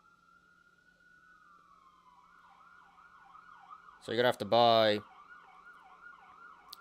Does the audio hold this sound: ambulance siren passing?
yes